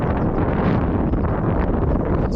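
Wind gusting by a fishing lake, a loud continuous rushing roar buffeting the microphone with no break.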